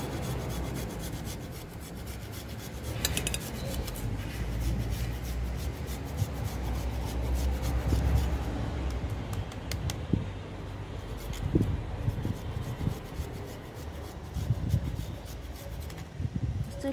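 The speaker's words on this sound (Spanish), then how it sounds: "vamos a coger un rallador y vamos a rallar un poco de jengibre" Fresh ginger scraped over a hand grater makes a steady, rhythmic rasping with repeated strokes that go on throughout, moderately close, with occasional small knocks and no talking.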